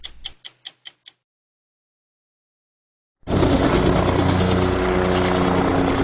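A helicopter's loud, steady rotor roar and engine whine start abruptly and continue over Gorongosa park in Mozambique, preceded by a few brief rhythmic ticks and a pause of silence.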